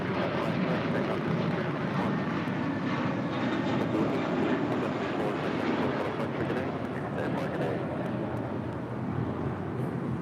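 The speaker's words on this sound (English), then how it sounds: "That is JetBlue 1874 departing to Newark on an A321." A JetBlue Airbus A321 departs toward Newark from LAX, its engines producing a steady, broad roar that stays constant and fairly distant throughout, with no voices.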